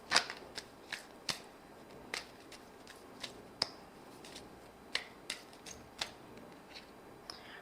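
Tarot cards handled and shuffled during a reading, giving a string of crisp, irregular snaps and flicks, some sharper than others, close to the microphone with no talking.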